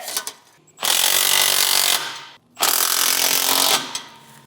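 A power ratchet or impact tool fires in two loud, sustained bursts, tightening AWE exhaust bolts on a third-generation Toyota Tacoma, with short pauses and light clatter between them.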